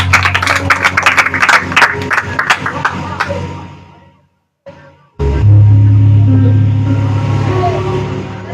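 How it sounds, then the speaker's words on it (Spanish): Church congregation clapping in quick, rhythmic bursts with voices mixed in, then a brief silence and a loud, steady rumbling background. "Denle un aplauso al Señor."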